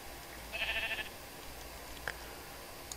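A Minecraft sheep gives a short, wavering bleat, quiet against a steady faint background hum, followed by a couple of brief soft clicks, with no talk over it.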